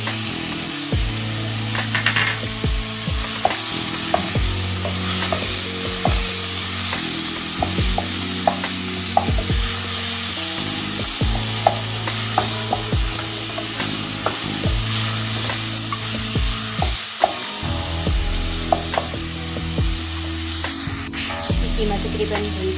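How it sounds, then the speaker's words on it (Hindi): Minced keema fries in a pan with added spices, a constant close sizzle broken by repeated scraping and clinking strokes of a spatula stirring the meat. "कीमा तकरीबन भून चुका है"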